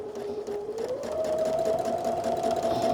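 A sewing machine stitches a quilt, a steady close whirring hum whose pitch climbs partway through and then holds level as the stitching speeds up, running on without pause.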